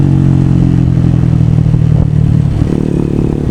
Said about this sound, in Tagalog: ngayon lang ako mag-drive ng motor ng gabi